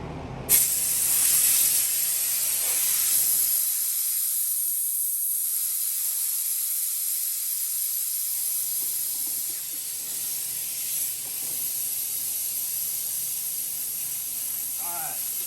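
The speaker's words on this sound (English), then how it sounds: "The old pancake compressor doing the Lord's work over here." A pancake air compressor in a shop runs with a steady, loud hiss of escaping air that continues throughout, dipping briefly in the middle, with no talk over it.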